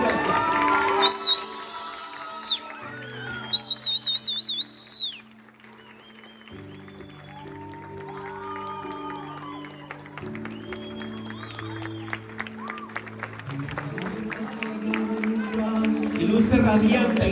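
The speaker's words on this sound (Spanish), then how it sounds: "Estela Cruz, fuerte el aplauso para ella" Applause and sharp whistles for a girl at her quinceañera celebration in a hall, loud bursts of clapping and cheering mixed with festive music and an announcer's voice.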